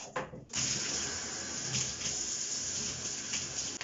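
A tap fills a bathtub with water, a steady close rush of running water that starts abruptly and keeps flowing alone.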